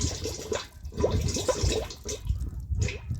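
Water running from a pipe into a nearly full storage tank, splashing and gurgling unevenly as the flow surges and drops, close by with no voices.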